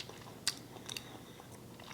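Someone chews a mouthful of crunchy lettuce salad close up, a few crisp bites and soft crunches over about two seconds in a quiet room.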